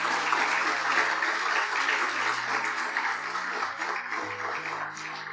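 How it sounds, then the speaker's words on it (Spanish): A church congregation applauds steadily for several seconds, dense clapping that gradually thins out, with a low sustained musical tone underneath. "Fuerte esos aplausos, hermanos"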